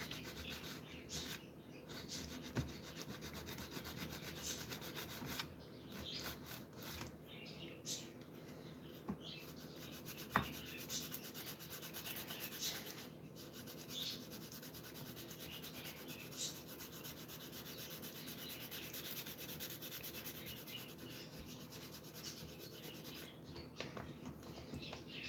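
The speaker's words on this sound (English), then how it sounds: "Sand everything out real nice and smooth." A resin model part sanded smooth by hand gives a long, steady, quiet rubbing and scratching that continues with small variations throughout.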